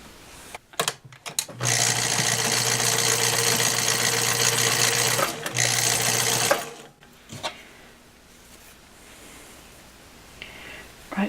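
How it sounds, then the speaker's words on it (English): Sewing machine stitching up a straight edge of fabric for a sock sweater, a loud steady whirring run broken by one brief pause, then stopping, followed by faint handling rustles. "now we fold right sides together and sew up that straight edge"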